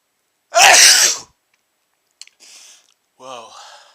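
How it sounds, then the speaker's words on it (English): A man lets out one loud, explosive sneeze, close and sharp, lasting under a second. Quiet follows, then small sniffs and breathy vocal sounds. "Oh, what a big sneeze."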